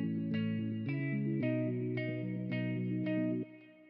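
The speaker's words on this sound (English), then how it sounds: "So I can add pour plate here. Just give it a little bit of reverb." Layered sustained music chords with a plate reverb effect giving a spacious, smooth reverb tail, repeated strikes roughly every half second, then an abrupt cut leaving a faint decay.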